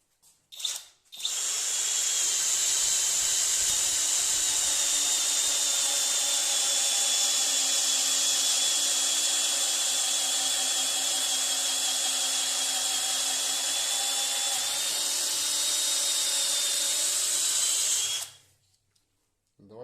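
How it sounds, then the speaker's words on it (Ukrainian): A Pro-Craft PA 18Pro BL cordless drill bores with a 20 mm bit in first gear of its mechanical gearbox, a loud, steady whine running nearly unbroken for about seventeen seconds before cutting off, with brief starts at the beginning. "Тепер беремо бур на 20 мм. Давайте поставимо першу швидкість на механічній коробці."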